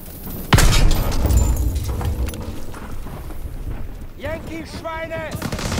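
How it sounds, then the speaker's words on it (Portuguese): A sudden loud explosion in the World War II shooter Call of Duty WWII bursts out, followed by a rumbling roar of battle, gunfire and shouted voices. "Cuidado, explosão!"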